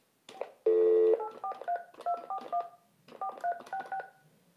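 A telephone call is placed with a steady dial tone followed by a rapid run of DTMF keypad beeps in two quick bursts, clear and close with no talking.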